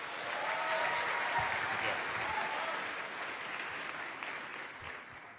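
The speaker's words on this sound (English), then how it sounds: "Please give him a round of applause." Dense, continuous applause from an audience at an Ignite Seattle talk event, a broad wash of many hands clapping that holds steady and then tapers off near the end.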